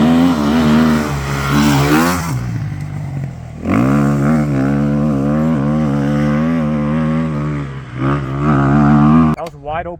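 A Beta 390 dirt bike screams wide open in third gear, loud and close, its engine note climbing in pitch, dropping briefly on shifts and then pulling hard again, with a rider's voice likely mixed under the roar.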